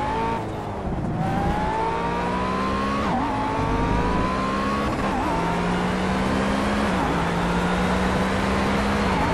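A McLaren P1 racing around Monza in Project Cars: a loud, close engine climbs steadily in pitch through each gear, with short dips at the shifts and a constant rushing roar over about nine seconds.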